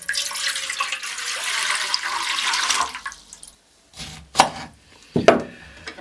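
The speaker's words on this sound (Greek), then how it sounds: "Θα βάλουμε σε ένα μπολ μέσα νερό." Water pours in a steady stream into a bowl for washing quinces in a Kymi, Euboea kitchen, running for about three seconds before stopping, followed by a few sharp knocks and clatters.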